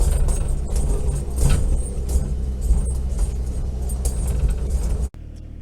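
A 1939 Chevy snow truck drives along with a loud, steady engine rumble and rattle up close, which cuts off abruptly just before the end.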